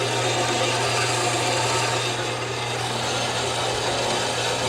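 Quarter-inch flat iron being cut at a 45-degree angle for a turbo intercooler mount on a Honda CR-Z, a continuous loud, even grinding roar that holds steady throughout with no pauses, no talking.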